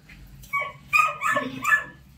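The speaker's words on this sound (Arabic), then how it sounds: "بص الكلب" A dog barks and whimpers close by in a few short, high, whiny bursts, with no talk.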